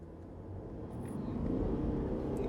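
A Mercedes E350 Coupe pulls away from a standstill, its engine a low, steady rumble that builds gradually in loudness over a couple of seconds, heard from inside the car with no one speaking.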